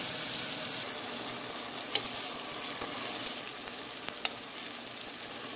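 Chicken pieces frying and browning in a pan, a steady soft sizzle with faint crackles and a couple of light stirring clicks, continuous and fairly quiet with no voices.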